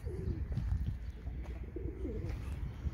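Pigeons in a coop coo softly and repeatedly, with low rumbling calls and faint rustling close by, no talk over them.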